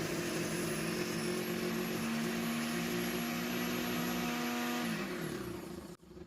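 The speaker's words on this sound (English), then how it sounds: "I'm going to use the Ninja just to whiz them" A Ninja blender whirs at a steady pitch while whizzing digestive biscuits into crumbs, quiet and even, then winds down and cuts off near the end.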